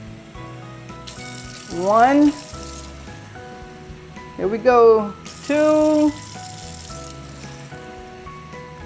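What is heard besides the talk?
cups of water poured into a pot of corn cobs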